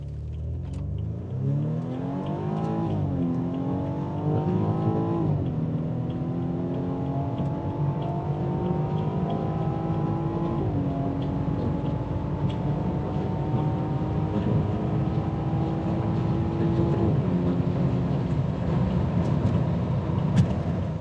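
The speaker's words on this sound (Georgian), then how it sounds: "და ვნახოთ 0-დან 100-მდე როგორ ჩქარდება" A BMW F33 accelerating hard from a standstill to 100 km/h, its engine note climbing steadily in pitch through each gear, then dropping briefly at every shift, loud and close throughout with no talking.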